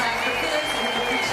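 A crowd gives a standing ovation at the Paris 2024 para dressage freestyle, with steady, dense clapping heard throughout this short stretch at a moderate distance.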